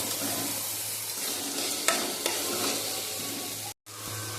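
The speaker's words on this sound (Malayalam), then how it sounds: "നമ്മുടെ ഉള്ളിയൊക്കെ ഒരുവിധം വഴന്ന് വന്നിട്ടുണ്ട്" Onions sauté in a pan for chicken curry, a loud, steady close-up sizzle with stirring that drops out briefly just before the end.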